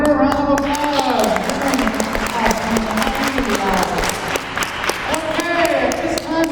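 Audience applause at a school princess pageant, sustained and fairly loud for the whole stretch, with voices and a melodic tone running underneath the clapping.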